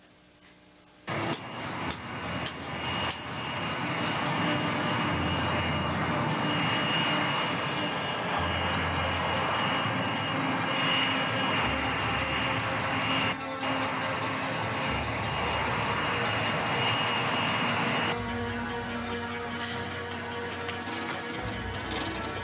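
Airplane engine roaring at the end of a runway, a loud sustained drone with shifting pitch as power changes, starting abruptly and holding steady for most of the stretch before easing, with no talk over it.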